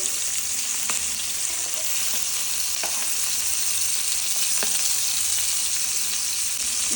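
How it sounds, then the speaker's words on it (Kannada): Masala sizzles steadily in a pan over a medium flame, a constant close frying hiss with a few faint clinks of stirring and no talk. "ಮೀಡಿಯಮ್ ಉರಿಲೇ ಈ ಥರ ಬೇಯಿಸ್ಕೋಬೇಕು ಫಸ್ಟು"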